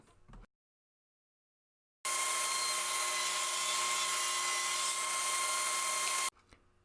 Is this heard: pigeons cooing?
no